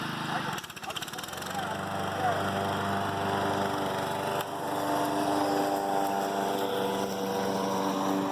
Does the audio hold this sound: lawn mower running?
yes